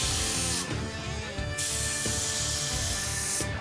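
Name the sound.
paint spray gun spraying clear coat on car door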